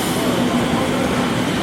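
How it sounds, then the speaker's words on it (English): Tram pulling into a stop in Cologne, Germany: a loud, steady rumble of wheels on rails with a faint squealing tone, heard up close without any talking. "Here we go, here comes our train."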